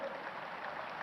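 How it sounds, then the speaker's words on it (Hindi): A crowd of farmers at a Madhya Pradesh rally in Nasrullaganj claps steadily, a dense continuous burst of applause. "दोनों हाथ ऊपर उठा ताली बजा के नरेंद्र मोदी जी का अभिनंदन कीजिए"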